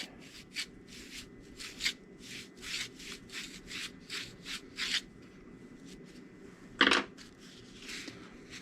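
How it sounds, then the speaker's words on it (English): A paper towel is pushed with a small pick into a dirty knife, a series of short dry scratchy rubbing strokes in an uneven rhythm, close and quiet, with one louder scrape near the end. "we'll take our paper towel and stick down in there."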